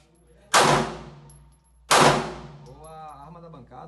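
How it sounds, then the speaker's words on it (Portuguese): Two sharp gunshots at a shooting range about a second and a half apart, each with a ringing decay, followed by a brief voice. "Pode efetuar três disparos."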